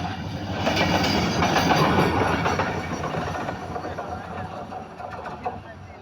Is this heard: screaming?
no